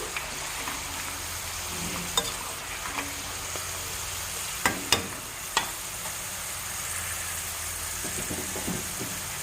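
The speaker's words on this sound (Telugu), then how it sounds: "ఇంతవరకు వేగింది కదండి మిర్చి స్టవ్ ఆఫ్ చేసుకొని పక్కన పెట్టుకుంటే ఈ వేడికి ఇంకొంచెం కలర్ వస్తుంది" Garlic and chillies fry in hot oil for an amla pickle, a steady close sizzle running throughout with a few sharp pops and crackles near the middle.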